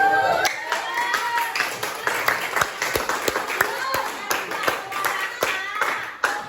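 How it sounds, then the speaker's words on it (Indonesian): Classroom of students clapping hands during a physics lesson, a quick run of sharp, uneven claps from several people close by, with voices talking over them. "Tepuk tangan dulu."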